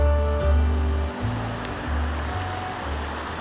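A small waterfall pours into a Scottish burn that runs down through shallow rapids, giving a steady broadband rush of moving water heard alone at moderate loudness, with low rumbling tones shifting underneath and no talk.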